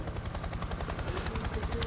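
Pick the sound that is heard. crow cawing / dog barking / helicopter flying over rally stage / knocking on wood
helicopter flying over rally stage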